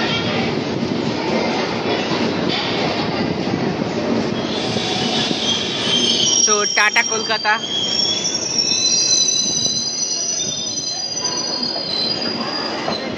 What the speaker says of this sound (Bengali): আমাদের Jammu Tawi express Kolkata railway station থেকে কিন্তু ইতিমধ্যেই ছেড়ে দিল।